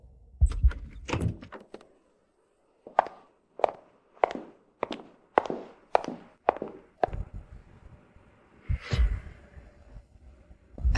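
A long-locked door is opened amid a series of sharp knocks, clunks and thuds with a sliding, rattling movement, heard close in a quiet room.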